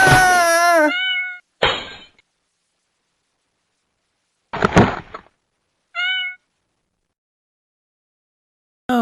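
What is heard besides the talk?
cat yowling, frightened of water during bath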